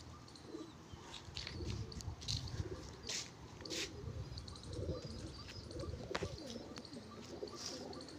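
Pigeons coo and flutter softly inside a loft of prized birds, a low continuous murmur of cooing with occasional wing flaps and faint scuffles, moderately near.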